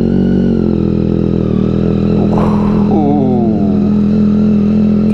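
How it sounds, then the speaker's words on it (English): A 2022 Yamaha XSR900 with a Kelpi Custom Moto shorty aftermarket exhaust idles with a deep, throaty rumble, then briefly revs up and settles back down, close by with no talking. "first ride with the exhaust"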